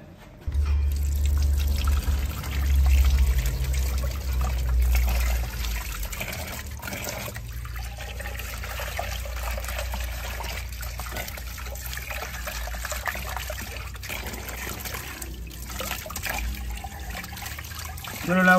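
Tap water runs steadily throughout while a tool used for a gasogeno is rinsed under it, with someone speaking over the flow.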